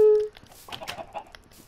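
A Minecraft chicken gives a short burst of clucking near the start, followed by faint scattered in-game clicks and rustles.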